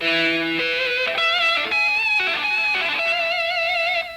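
Electric guitar octaves picked with the pickup tucked between the first and second fingers: distorted, sustained notes shifting through a quick melodic run, loud and alone.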